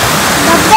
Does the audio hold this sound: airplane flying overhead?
no